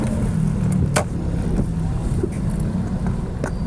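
Heavy evening road traffic in BGC, Taguig, in light drizzle: a constant loud low rumble of engines with wind buffeting the microphone and occasional brief clicks and knocks on top.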